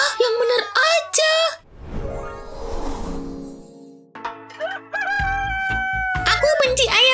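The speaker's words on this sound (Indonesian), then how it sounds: "Aku benci ayam jago." A rooster crows loudly and close several times, with clucking between the calls, while a voice talks over parts of it.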